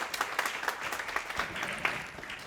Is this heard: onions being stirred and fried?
no